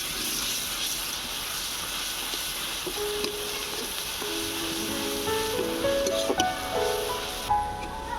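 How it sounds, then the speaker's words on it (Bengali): Onion and garlic paste frying in a pan for a fish-bone and aubergine curry, a steady close hiss of sizzling oil with faint clinks and tonal background noise toward the end. "পেঁয়াজ রসুনটাকে একটু লাল লাল করে ভেজে নেবো"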